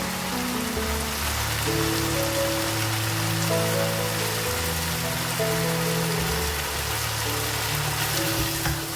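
Beef karahi masala frying in a pan as two spoons of yogurt go in, giving a dense, continuous hiss of sizzling that holds steady throughout, with soft tonal music underneath.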